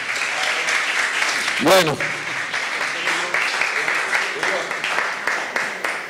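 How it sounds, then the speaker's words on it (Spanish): Audience at an academic talk on the Haitian revolution claps steadily for several seconds, dense close applause throughout, with a brief voice speaking over it and a short microphone squeal. "Vamos a dar un aplauso."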